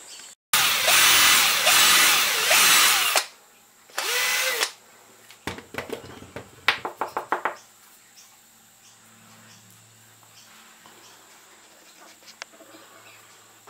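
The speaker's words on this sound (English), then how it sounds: "let's go finish shaping this guy up and drill some lead holes." A small power drill whirs in two bursts, one long and one short, drilling lead holes in a handmade micro swimbait lure, followed by clicks, taps and handling noises.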